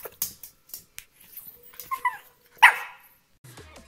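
A pet dog gives a few short barks and whimpering yips in a quiet room, the loudest bark near the end.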